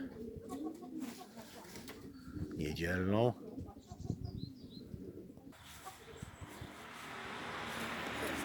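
Homing pigeons on a roof give soft, low cooing and a brief flutter of wings outdoors, while someone talks nearby and a light background hiss rises toward the end.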